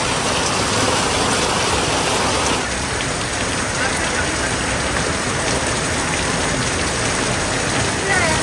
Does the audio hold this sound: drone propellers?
no